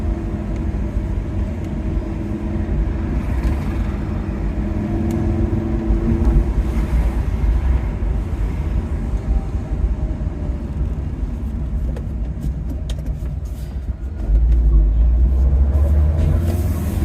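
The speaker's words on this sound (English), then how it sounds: "Engine sounds fine, it's a little bit tappety" A Fiat Coupe engine idles steadily close by with a faint tappety ticking from slightly dry hydraulic valves, and a deeper rumble swells near the end.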